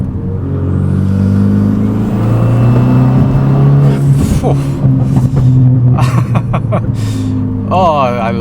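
Turbocharged Renault Megane RS accelerating, its engine note climbing in pitch as boost builds, loud and close from the cabin, with a sharper whistling rise near the end.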